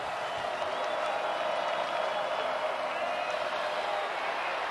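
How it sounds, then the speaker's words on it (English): Stadium crowd noise during a Washington State Cougars against James Madison Dukes football game: a continuous dense roar of cheering and clapping, steady and loud from start to finish. "Crowd getting into it."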